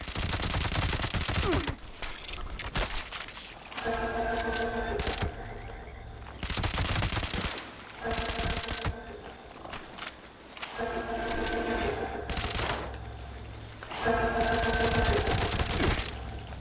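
Rapid bursts of automatic gunfire in Fallout 76 rattle loudly, separated by short pauses, with a synthetic, game-like quality and no talking.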